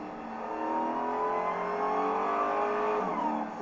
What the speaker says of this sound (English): let's hear what a supercharger sounds like